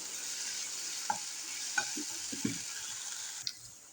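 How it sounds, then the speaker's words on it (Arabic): Chicken fries with spices in a pan, a soft steady sizzle with a few sharp clinks of a utensil stirring at intervals, fairly quiet overall. "هلا بخليه دقيقتين مع البهارات وبقيل الدجاجات على جنب"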